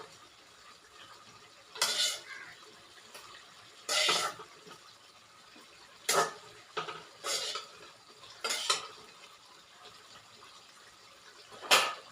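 Water goes into tapioca in a home kitchen, heard as several short bursts of clanking vessels and scraping utensils with splashy pouring, separated by quiet pauses. The sounds are close and there is no talking.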